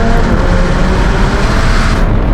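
A widebody McLaren 720S Spider accelerates hard in second gear, its engine a loud, dense, continuous roar that holds steady close to the listener for the whole stretch.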